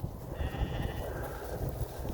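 Sheep bleating on a farm in winter: a single drawn-out wavering bleat rising over a dense, noisy background of other livestock, fairly close and loud, with no talking.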